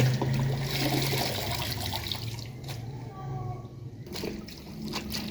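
Grain is swished and rinsed in a vessel of water, a continuous close sloshing and trickling that sounds loud at first and then steadier and softer.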